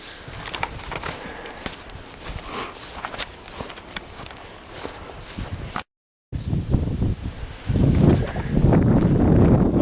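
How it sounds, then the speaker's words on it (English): Gusty wind on an exposed hillside walk near Crest woods in Denbigh buffets the microphone in a constant roar. It cuts out for a moment, then comes back with heavier, louder gusts. "The wind's picking up too, so I'll have to battle with the wind and the camera"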